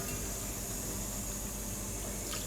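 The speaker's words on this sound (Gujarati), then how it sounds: "થોડુંક આમાં પાણી નાખીને આપણે નાખી દેવું" Water poured into a pot of simmering spinach urad dal makes a short, steady splashing pour that is close and fairly loud, with no voices.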